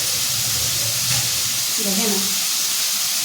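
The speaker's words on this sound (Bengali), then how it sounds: "পটল ভাজা হচ্ছে" Pointed gourd (potol) frying in a pan, a steady close sizzle and hiss running throughout, with a short bit of speech briefly rising over it.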